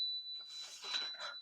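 A wand used during a tarot reading gives off a bright, ringing chime that hangs as a sustained tone, with a softer shimmer of overtones and a second swell near the end.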